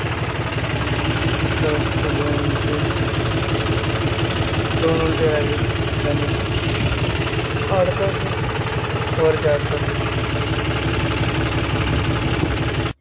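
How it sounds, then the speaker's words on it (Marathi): A tractor engine chugs steadily during morning field ploughing, a loud close knocking drone held throughout while someone talks over it. "सकाळच ट्रॅक्टरचं काम चालतंय"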